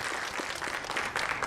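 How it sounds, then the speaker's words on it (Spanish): An audience claps to welcome a speaker at a reading event, giving a dense, steady burst of applause from many people that stays fairly loud throughout. "Recibámosla por favor con un fuerte aplauso."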